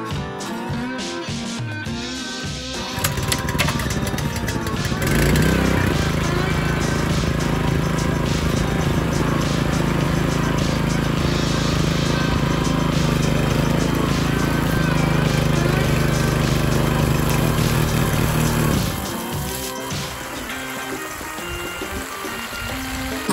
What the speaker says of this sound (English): Let's see how quickly this pump starts.